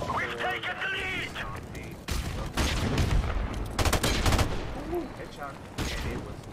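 Gunfire from a sniper-heavy shooter video game played on a computer, with bursts of shots and mechanical clicks mixed with game sounds and a voice talking over it.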